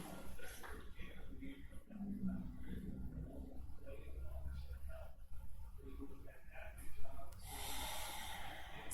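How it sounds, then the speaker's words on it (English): Slow, deep breaths during a gentle yin yoga session, audible as soft, close inhales and exhales with an airy rush and a snorting nasal quality, several in sequence. "taking a couple of big breaths here"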